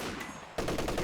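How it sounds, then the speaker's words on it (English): Machine gun fire in the Company of Heroes 2 real-time strategy game: after a quieter stretch of battle ambience, a dense, loud burst of rapid automatic shots starts suddenly and continues steadily to the end. "Got suppressed there, right on the edge of the machine gun's range."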